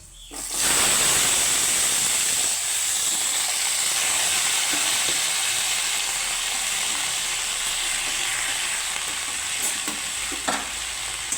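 Chopped pumpkin vine tips hit hot oil tempered with panch phoron, setting off a loud, steady sizzle that starts abruptly and holds evenly throughout, with faint stirring scrapes and no voices.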